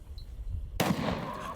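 A 37 mm Smith & Wesson launcher round detonates with a sudden loud, close blast after a quiet lead-in, followed by a sustained rumbling roar and debris noise.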